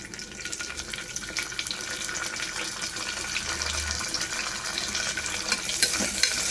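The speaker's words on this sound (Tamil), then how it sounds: "எல்லாத்தையும் வதக்கிடுங்க." Onions and mint sautéing in a pan give a dense, continuous sizzle with stirring scrapes throughout, close and steady with no talking.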